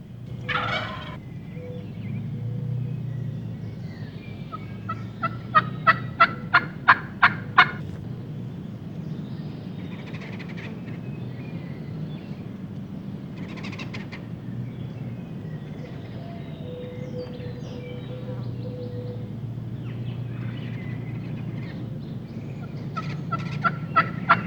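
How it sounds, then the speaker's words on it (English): Merriam wild turkey longbeard gobbler gobbling in a spring woodland, with one gobble near the start and a louder rapid burst of gobbles around the middle, then further gobbles later in the clip, with quiet outdoor ambience in between. "Harold's calling gets an eager response from a Merriam longbeard."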